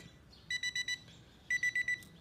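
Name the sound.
SZ-805 digital alarm clock alarm ringing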